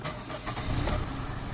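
A Toyota GLi car engine cranks and catches at close range, a steady mid-pitched motor sound with a louder surge partway through, then settles into a rough low idle.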